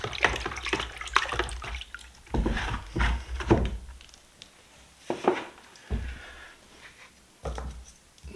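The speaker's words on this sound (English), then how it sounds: "I'm just going to wash my hands again." Hands being rinsed under running water from a tap after mixing fine casting plaster, with irregular splashing and gurgling bursts that come and go, fairly close and moderately quiet, with no talking.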